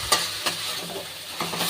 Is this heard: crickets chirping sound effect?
no